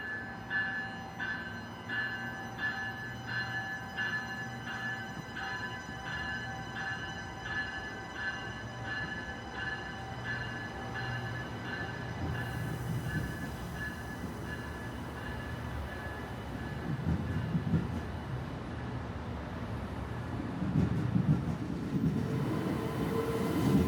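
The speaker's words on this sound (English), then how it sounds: "let's take a listen to see how the train sounds as it departs Baltimore" An Amtrak NextGen Acela high-speed train departs Baltimore station with a steady rumble and faint rhythmic clatter, building gradually louder as it picks up speed.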